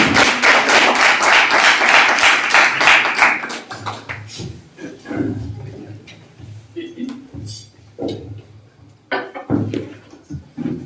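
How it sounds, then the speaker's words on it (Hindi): A church congregation claps loudly and rapidly for Jesus Christ for about three seconds; the applause then stops abruptly and a voice speaks over the quiet hall with scattered taps. "प्रभु यीशु मसीह के लिए एक जोरदार ताली आप बजाइए।"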